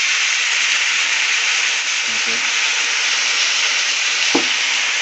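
Pork curry cooks in a pan with a steady, loud sizzle and frying hiss that runs throughout, broken by a couple of brief clinks and a sharp knock near the end.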